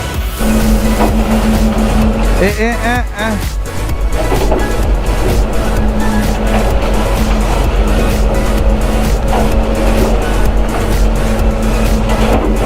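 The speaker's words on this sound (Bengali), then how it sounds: "আবার চাকা ছিটকাচ্ছে" Motorcycle wheel spinning and slipping on a rough mountain road between Syange and Manang in Nepal, with a loud continuous engine roar that revs up and wavers in pitch mid-way, close and dominant throughout.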